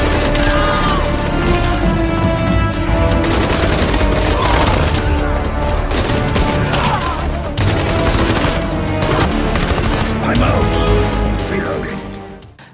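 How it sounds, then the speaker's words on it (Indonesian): Sustained gunfire exchange between soldiers in an action film, with dense overlapping shots and bursts that run loud and nearly continuous, layered over music and battle noise, with no clear pause before fading at the end. "Aksi tembak-tembakan terus berlangsung"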